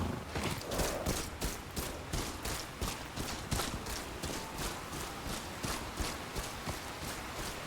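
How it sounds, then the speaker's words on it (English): In the video game Ghost of Yotei, a horse's hooves clip-clop in a steady, even rhythm of sharp, close strikes that continue without a break. "Okay, horse."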